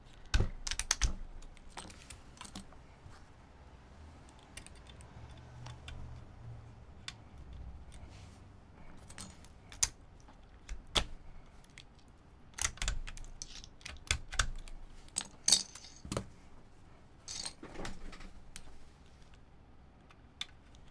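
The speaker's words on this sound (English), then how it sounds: "so I'm going to take off a few more keycaps" Computer keyboard keycaps are pried off one by one, giving scattered sharp plastic clicks and snaps with irregular pauses between them. No one speaks.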